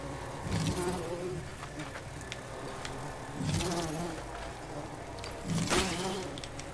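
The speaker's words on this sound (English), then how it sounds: "Hi, bees." Insect-like buzzing of bees in the video game Decay of Logos, a steady drone with louder swells at intervals, heard over game ambience with no talk.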